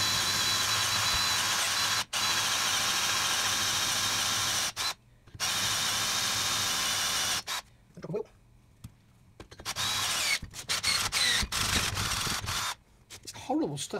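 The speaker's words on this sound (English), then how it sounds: "Still got the drill on a slow speed, no pressure." A 10.5 mm drill bores slowly with no pressure into cast steel on a locker differential, giving a steady whirring grind that cuts out and restarts several times, with short pauses and some handling noise.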